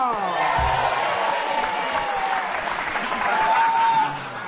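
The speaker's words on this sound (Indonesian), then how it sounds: "tepuk tangan ke Mas Jarwo" Studio audience applause at a stand-up comedy show, a dense steady wash of clapping and crowd noise with some voices mixed in, fading slightly toward the end.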